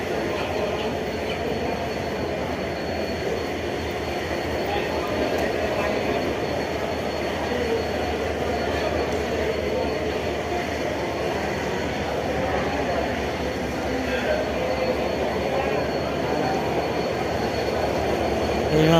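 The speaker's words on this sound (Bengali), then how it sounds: "এইমাত্র একটি ট্রেন এসে থামলো, মনে হচ্ছে এটি লোকাল ট্রেন।" A local train pulls into Kamalapur railway station with a loud, continuous rumble of wheels and carriages that fills the whole stretch, with crowd noise from a busy platform beneath it.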